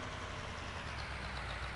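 A tractor engine idles in Farming Simulator on the Goldcrest Valley map at night, giving a faint, steady low rumble that holds without change and without speech.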